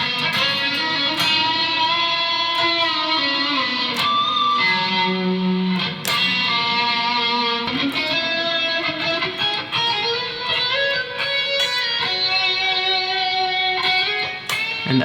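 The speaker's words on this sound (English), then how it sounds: "As you can hear, I love delay." Music drenched in delay effect, layered synth and guitar-like tones with repeating echoes smearing notes together, continuous and fairly loud with no talking.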